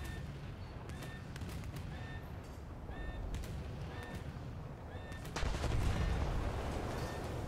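Naval guns on a dreadnought battleship fire in War Thunder as distant, muffled booms, faint under a steady background rumble, with a heavier blast rolling out about two-thirds of the way through.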